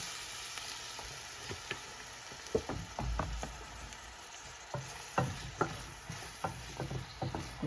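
Oil sizzles softly in a pan with a quiet, steady hiss, broken by scattered crackles and pops that come faster toward the end.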